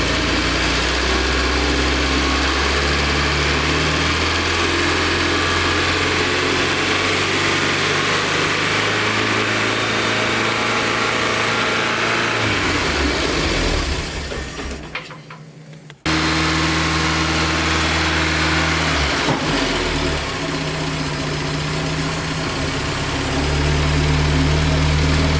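An early Euro-spec Porsche 924, restarted after sitting as a barn find, idles loud and close with a steady, slightly uneven rumble. It drops out briefly partway through before resuming at the same level.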